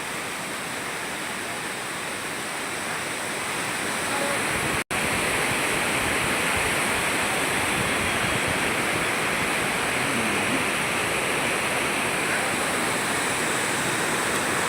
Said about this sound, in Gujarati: જો દેખાય છે પાણીના ગળકા ચાલુ ફટાફટ